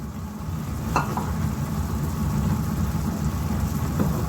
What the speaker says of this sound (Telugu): ఇప్పుడు అరటికాయ ముక్కలు చేసుకుని పెట్టుకున్నాం కదా, ఇది వేస్తున్నాను.